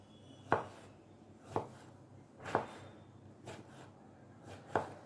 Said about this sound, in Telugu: ఇప్పుడు వంకాయ సన్నగా కట్ చేసుకుందాం